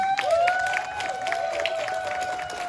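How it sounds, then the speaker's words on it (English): Applause from an audience honoring a stage actor, steady clapping and light crowd noise over a held tone and faint voices, moderately loud throughout. "give him a round of applause"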